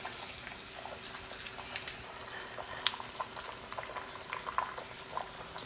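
A pot of Kerala fish curry soured with kudampuli, likely ayala mackerel, bubbles at a steady, continuous boil, with soft pops and gurgles throughout and no talking.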